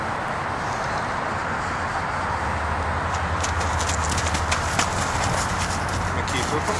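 Hooves of a young mustang mare on her first ride under saddle, a rapid, even clip-clop over steady background noise, with a rider's voice talking over it now and then.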